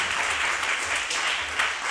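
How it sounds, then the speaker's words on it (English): A church congregation claps along during a lively worship service, a dense steady wash of many hands with a loose rhythmic pulse, moderately loud and without clear speech on top. "Clap for the Lord."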